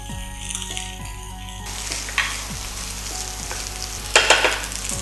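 Egg fried rice tossed in a hot pan, a steady sizzle with repeated scraping strokes and a couple of louder clattering tosses near the end, no talking.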